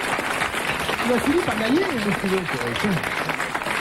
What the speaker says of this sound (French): Vous applaudirez quand même Monsieur Nicolas Jacques